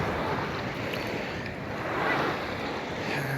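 Choppy waves on Issyk-Kul lake wash and churn steadily close by, mixed with gusty wind buffeting the microphone, with no speech.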